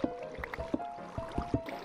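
Water being placed and flowing in Minecraft, heard as a series of short wet plops and drips, about seven soft bursts spread unevenly over two seconds, close and moderately loud.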